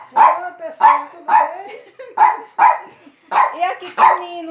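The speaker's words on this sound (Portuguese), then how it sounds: "esse cachorro aqui que late muito" A dog barks loudly and close by in a regular run of seven sharp, yelping barks, each about half a second apart, with no talking over them.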